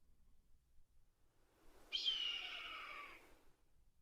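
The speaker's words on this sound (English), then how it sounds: "Sounds like there's a red-tailed hawk calling nearby." A red-tailed hawk calls nearby with one drawn-out, hoarse, descending scream that stands alone against a quiet outdoor background.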